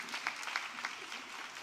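An audience at a women's policy roundtable luncheon claps for the moderator: a brief, steady round of applause from a seated crowd in a hall, moderately distant and even throughout.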